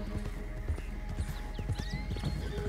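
Hooves clop in an uneven patter while a horse whinnies in Red Dead Redemption 2 Online, close and moderately loud against outdoor game ambience.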